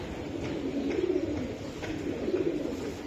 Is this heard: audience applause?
no